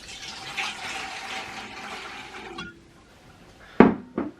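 Hands being washed with pre-boiled water, a trickling, splashing flow for a few seconds that fades out, then a couple of sharp splashes or clunks near the end, close by.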